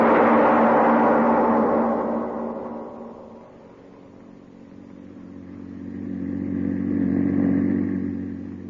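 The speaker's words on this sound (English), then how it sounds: "The publisher and his chauffeur are driving along a country road." A car drives along a country road as a radio-drama sound effect: a loud engine drone that fades down midway and then swells back up as it passes nearby, with no voices.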